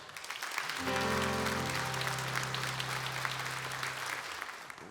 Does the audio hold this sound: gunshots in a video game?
no